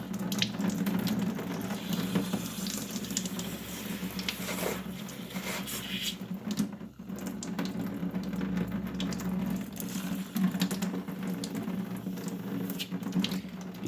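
Tap water runs steadily and loudly for the whole stretch, a constant splashing gush into a sink while rinsing a printer printhead, with a brief dip in flow midway.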